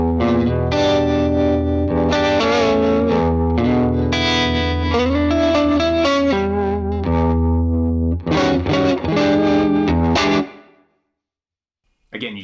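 Universal Audio Ruby pedal running its swirly vibes factory preset, a sustained chorused and modulated tone with shifting, wavering layers for about ten seconds before falling silent.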